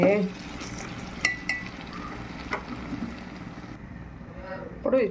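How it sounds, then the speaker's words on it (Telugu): Masala scraped and stirred into chicken curry in a pan: soft sizzling with intermittent metallic clinks and scrapes of a spoon against the pan, under a voice speaking at the start and end. "ఆ మసాలా అంతా ఎత్తి చికెన్లో కలిపేసాను"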